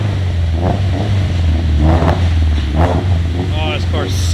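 A K-swapped Toyota AE86 runs with a steady low engine drone throughout, its note rising and falling as it drives, while several people talk excitedly over it.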